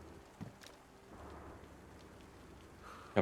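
Rain falling in the video game DayZ, on the Livonia map, a soft steady hiss of downpour with a low rumble and a sharp burst at the very end, fairly faint and without talk.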